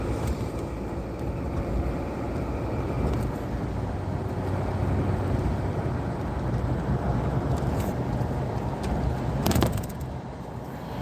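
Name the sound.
road traffic at night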